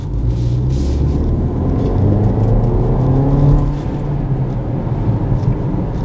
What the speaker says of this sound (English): Let's do some acceleration.